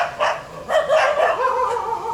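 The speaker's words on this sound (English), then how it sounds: "I can show you my new friends, the dogs." Several dogs at a tiny house in a coconut garden in Hikkaduwa, Sri Lanka, bark in a string of sharp, close yips and barks, fairly loud and with no one talking over them.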